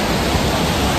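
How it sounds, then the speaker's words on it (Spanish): Waterfall in a Galician village, a steady, loud, broadband rush of falling water heard close up, continuous with no voices. "se ve la cascada increíble en el pueblo"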